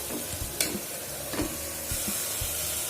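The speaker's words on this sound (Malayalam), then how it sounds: "ഇത് കുറച്ചു നേരം നന്നായിട്ടൊന്ന് വഴറ്റി കൊടുക്കണം" Mint rice mixture sautéed in a pan, a steady close sizzle and hiss with a few soft stirring scrapes spread through it, no voices.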